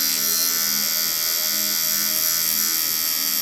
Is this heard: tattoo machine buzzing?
yes